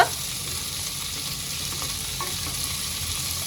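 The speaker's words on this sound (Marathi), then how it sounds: "वालपापडीला जे आहे मी चांगलं तेलामध्ये तळून घेते कमीत कमी तीन ते चार मिनटापर्यंत" Flat beans (val papdi) frying in oil on a low flame, a continuous even sizzle with faint stirring, close and steady for the whole stretch, with no talking.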